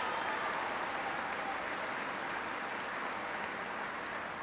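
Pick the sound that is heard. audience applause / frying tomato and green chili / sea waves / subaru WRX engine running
audience applause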